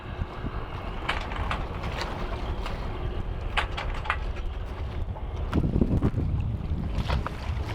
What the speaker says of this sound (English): We're doing a little sailing in amongst all of the tankers